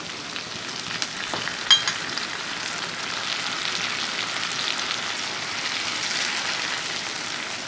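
Chopped onions sizzle and fry steadily in hot oil in a pan with cardamom and chilli, a dense close crackle running unbroken with a few faint clinks and no voices.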